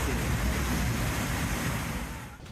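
Large ocean waves at sea, bigger than a small boat, roar as a steady, loud wash of surf with wind noise that eases slightly near the end.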